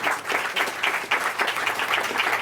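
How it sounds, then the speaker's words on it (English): A room of people claps for New York Governor Hochul at a bill signing, a smaller, close burst of applause with individual hand claps pulsing unevenly throughout. "Let's give another round of applause to our great governor here."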